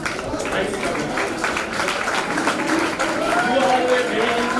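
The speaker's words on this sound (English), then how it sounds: "give a round of applause to all of the delegates from DISEC committee" Delegates of a Model United Nations DISEC committee give a round of applause, a dense, sustained clapping from a seated crowd that carries on steadily at moderate loudness, with a voice partly audible through it.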